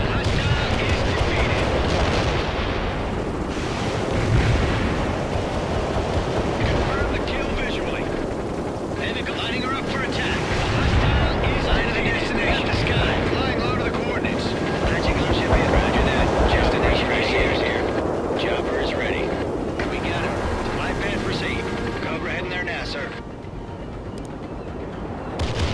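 An Apache helicopter flies low below a tree line in a war setting, its rotor and engine roar a constant loud wash mixed with distant battle booms and gunfire, with people talking over it.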